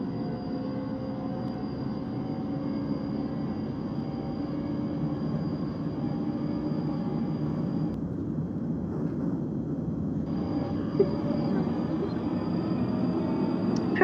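A London Underground Northern Line train in the OpenBVE simulator game runs with a steady, loud interior rumble and a high electric whine. The whine cuts out briefly midway, then returns, and the sound continues for about fourteen seconds with no voices.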